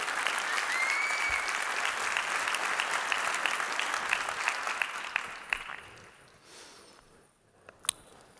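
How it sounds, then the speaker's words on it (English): Conference audience applauding, a dense, steady wash of many hands clapping for several seconds before fading out into quiet room tone with a few scattered claps. "Big round of applause for all of you."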